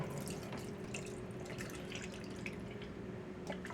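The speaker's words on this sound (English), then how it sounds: "I'm going to pour the natural juice off though" Juice from canned pears pours and splashes steadily into a sink, a soft continuous trickle with small drips, fairly quiet and with no voices.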